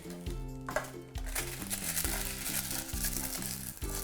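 Baking paper being cut into a circle with scissors, producing soft crinkling and snipping rustles, faint and close with steady small crackles.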